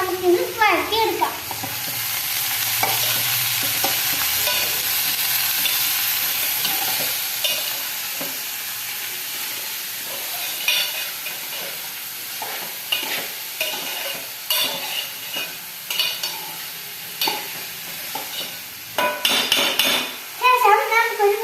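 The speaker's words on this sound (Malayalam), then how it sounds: "ഇത് നന്നായി നമുക്കിത് വഴറ്റിയെടുക്കാം" Green chillies and onion sautéing with salt in a pan, a steady close sizzle and frying hiss with scraping and stirring clatter from a spoon throughout, growing busier toward the end.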